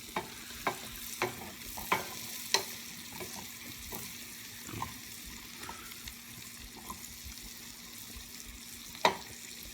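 Mushrooms sautéing in a hot pan make a soft, continuous sizzle, with a series of sharp stirring clicks spaced through it and no voices.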